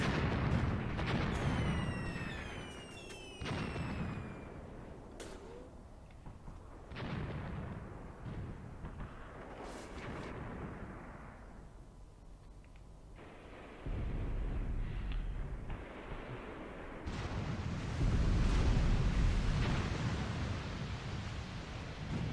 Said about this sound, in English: Must be Russian artillery preparation to, for an assault